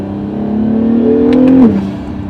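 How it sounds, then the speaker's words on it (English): A second-generation Acura NSX with a 9-speed dual-clutch gearbox revving hard toward 7,500 RPM, its engine note climbing steadily before dropping off as a brief turbo blow-off hiss releases, loud and close. "That blow-off sound is nuts."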